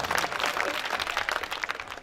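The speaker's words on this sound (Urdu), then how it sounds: "اس شگفتہ جملہ پہ ایک مرتبہ پھر تالی بجا دیجیے" Audience applause fills a mushaira Urdu poetry gathering, a dense steady wash of many hands clapping throughout, fairly loud and continuous with no voices on top.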